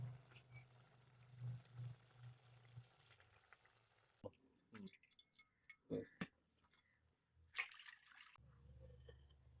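Squid curry bubbles and pops faintly in a pot off the heat, with scattered soft plops and clicks over a low background hum.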